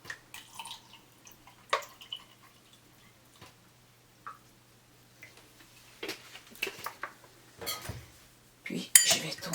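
Spoon stirring an aloe vera drink just mixed with water in a glass, giving sparse light clinks and taps spread irregularly through the stretch, fairly quiet against a soft background hum.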